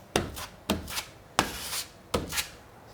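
Drywall joint compound spread and flattened with a knife in an 1880 house renovation, four rhythmic scraping strokes, each with a sharp start and a rasping drag, close and clear with no talk.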